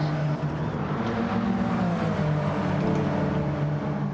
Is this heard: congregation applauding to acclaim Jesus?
no